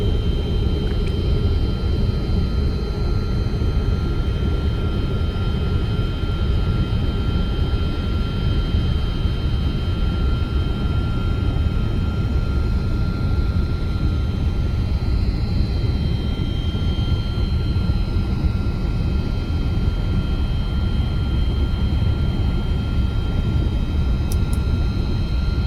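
Simulated MD-11 jet engines roaring steadily as the airliner climbs after takeoff in X-Plane 12, a loud continuous drone with a high whine held throughout.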